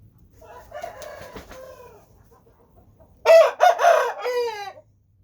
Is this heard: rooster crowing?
yes